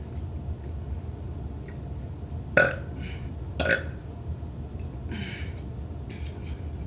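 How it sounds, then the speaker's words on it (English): Burps after a drink of Mountain Dew: two distinct short belches in quick succession, close and fairly loud, followed by a softer partial one against a quiet room background. "Two and a half burps."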